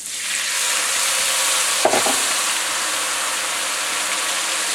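Steady, loud sizzling of a stir fry in a hot pan as lime juice goes in, with a short thump and splash partway through over the constant hiss.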